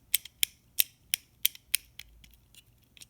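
A handheld clicking fidget toy snaps out about a dozen sharp, crisp clicks, the first six evenly spaced and loud, then quieter, irregular ones, heard up close with no talking.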